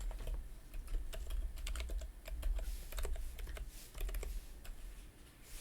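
Fingers type on a computer keyboard, close up, in bursts of rapid key clicks with short pauses between runs and no speech.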